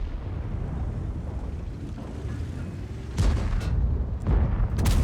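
Tank cannon shots and artillery in a video game: several heavy booms land over a steady low rumble, loud and close, with irregular gaps between them.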